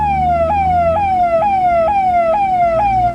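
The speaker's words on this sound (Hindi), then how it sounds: "पुलिस की सायरन हमारे मोहल्ले में?" Police siren from an animated Free Fire story, a loud wailing tone sweeping down and jumping back up about every half second, steady and close throughout with no voices.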